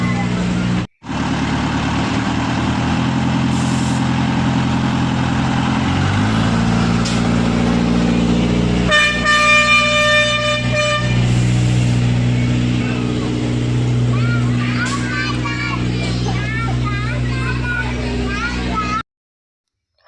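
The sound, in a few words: vehicle horns honking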